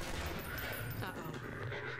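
Rapid automatic turret fire in Half-Life 2 rattles on at mid distance through a tense indoor fight, a dense, continuous burst that runs the whole moment.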